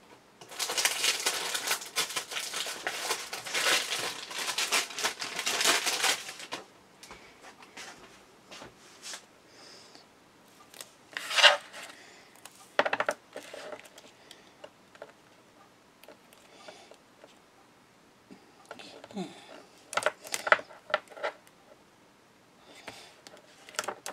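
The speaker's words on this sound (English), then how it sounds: "And just burnish down." Paper glued with PVA is burnished flat onto a memory book page, giving a run of dry rubbing and scraping strokes, steady at first, then scattered close taps and short scrapes.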